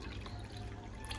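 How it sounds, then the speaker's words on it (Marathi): Water trickles into sweet pani puri chutney in a faint, short pour lasting about a second with no talking. "मी आता पाणी टाकून घेते"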